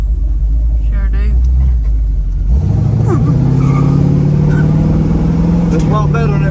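Big block Pontiac Trans Am with a Quadrajet carburetor, running at a deep steady idle, then blipped into a rising rev that settles into a louder, sustained drone. Someone talks over the engine.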